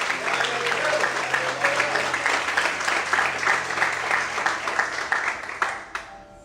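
Congregation applauding during a church service, a sustained wash of many hands clapping at fairly close range, steady and loud before tapering off abruptly at the end.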